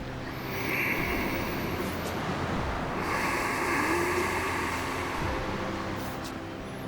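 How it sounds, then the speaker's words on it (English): Slow, steady breathing through the nose, close up: two long airy breaths that swell and fade, with no talking. "The sound of the breath can override some of the thinking that the mind wants to do."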